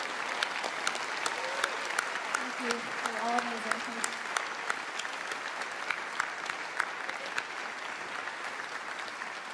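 Sustained audience applause fills a large hall after a singer performs at the 2019 World Food Prize. The clapping is dense and steady throughout, with a voice speaking over it.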